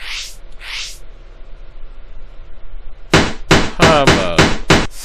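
Hammer sound effect in an educational spelling video game for young children: two soft chiming taps at the start, a pause, then a rapid series of six or so sharp metallic strikes with ringing overtones.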